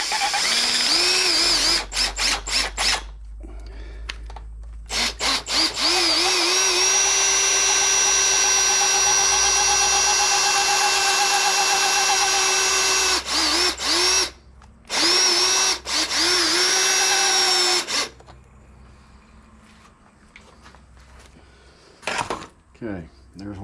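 A power drill bores into a part while a Stihl MS271 Farm Boss chainsaw is repaired, whining loudly in several long runs separated by short pauses, with a few clinks of metal tools between bursts.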